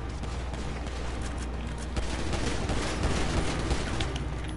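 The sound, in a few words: gunfire in a PS4 video game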